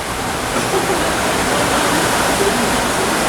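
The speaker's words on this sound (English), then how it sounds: "Right here is where the sap comes in the evaporator." Maple sap pours into a syrup evaporator in a Vermont sugarhouse, a steady, loud rushing of water like a small waterfall that holds constant throughout.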